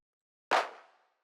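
A single layered-clap techno snare drenched in reverb, a sharp crack followed by a smooth tail that fades out over about half a second, heard alone.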